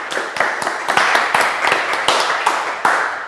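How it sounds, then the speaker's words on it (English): A small group at a business meetup gives a round of applause for the coffee sponsor, a few people clapping close by in an uneven, brisk rhythm with distinct individual hand strikes that continue throughout. "Give him a round of applause."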